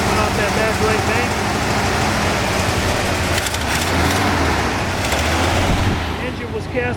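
1971 Corvette big block V8 idling with an exhaust leak on the back right bank, a steady close throbbing rumble with ticking puffs, while someone talks over it.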